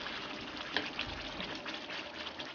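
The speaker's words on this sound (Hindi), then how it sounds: "इसमें आप आधा कप जो है आप पानी का डाल दें" Half a cup of water is poured into cooking masala for a fish curry, making a steady gushing splash that runs unbroken for a couple of seconds, fairly quiet and with no voices.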